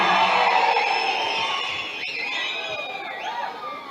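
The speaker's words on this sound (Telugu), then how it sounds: "చప్పట్లు కొట్టండి." Applause and crowd noise from the audience at a BRS party workers' meeting, a loud, sustained wash of clapping and cheering that slowly fades, with voices mixed in.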